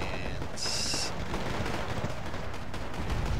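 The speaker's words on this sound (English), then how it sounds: "my little helicopter trying its best to fire" A helicopter fires its weapons during a Wargame AirLand Battle match: a dense, steady roar of fire and engine noise runs throughout, with a brief high whine partway through.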